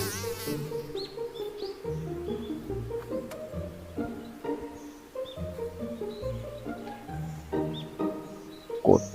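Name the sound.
mosquito buzzing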